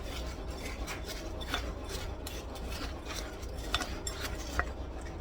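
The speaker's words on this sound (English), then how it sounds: "I'm going to mix this up." Dessert ingredients for an ice cream chocolate dessert, with unsalted butter, being stirred and mixed in a bowl, giving a steady close scraping and rasping with occasional sharper clinks of the utensil against the bowl.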